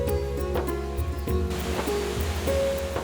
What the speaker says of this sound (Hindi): वो देखो झरना